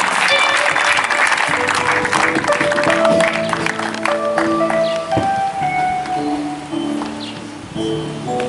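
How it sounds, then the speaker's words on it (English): A church congregation applauds in a steady, dense burst of clapping, with tonal singing or music running underneath throughout. "Clap for Jesus Church."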